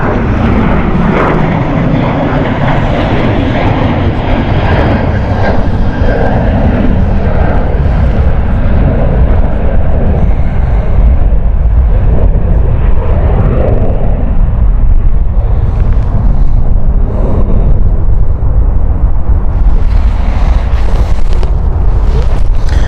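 A Pegasus jet at Stansted airport roars loudly and close, a continuous heavy engine rumble that holds for over twenty seconds with a rising whine toward the end.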